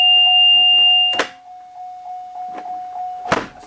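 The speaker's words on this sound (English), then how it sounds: "As you can hear, the same buzzer, which indicates that it is working correctly" A school bus emergency roof hatch buzzer sounds as a steady, loud electronic tone, broken by clunky thumps of the hatch, continuing at a lower pitch with a few more knocks.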